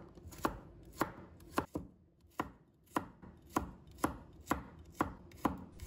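A knife slices garlic cloves on a cutting board in a Chinese home kitchen, about a dozen crisp, evenly spaced chops, close and clear with nothing else heard.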